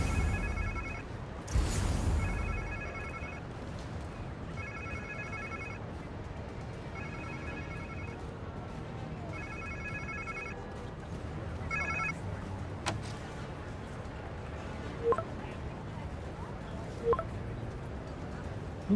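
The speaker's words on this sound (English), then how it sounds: "Sounds like somebody's phone." A phone rings in repeated bursts in the video game Spider-Man 2, with short pauses between, fairly clear over a low background hum, with a couple of faint clicks near the end.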